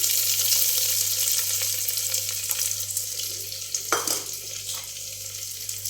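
Mustard seeds and urad dal spluttering in hot oil while spinach fries in a home kitchen, a steady crackling sizzle with a louder burst of popping partway through, close and without talk.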